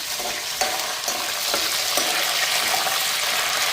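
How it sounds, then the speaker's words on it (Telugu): Curry leaves and green chillies fry in hot oil in a kadai, a loud, steady hiss and crackle close up, broken by a few sharp pops and stirring clicks. "ఆయిల్ హీట్ అయిన తర్వాత కరివేపాకు అండ్ గ్రీన్ చిల్లీ ఇవి రెండు వేసి ఫస్ట్ అయితే ఫ్రై చేస్తూ ఉన్నాము"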